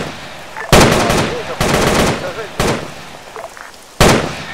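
Loud bursts of automatic gunfire in Arma 3 during a winter dam-guarding match, four sharp broadband volleys about a second apart with faint voices between them.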